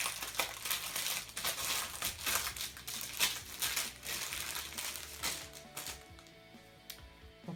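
Plastic packaging crinkles and crumples as it is opened to unwrap a blue and white scarf, a close, steady series of rustles and crinkling handling noises with no talk.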